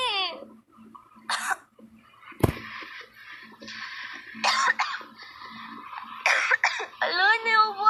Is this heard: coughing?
yes